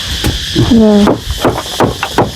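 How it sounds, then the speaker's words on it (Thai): Sharp hammer knocks on nails in wooden beam formwork being taken apart at a house build, several irregular close strikes, with a voice speaking briefly between them. "ตัวนี้เราตอกตะปูคือกันเนาะ"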